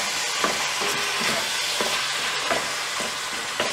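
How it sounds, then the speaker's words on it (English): Ground beef browning in a pan for beef empanadas, a steady close sizzle and frying hiss with repeated soft scrapes and stirs of a wooden spoon roughly every half second. "we're gonna brown the ground beef for about 6 to 8 minutes."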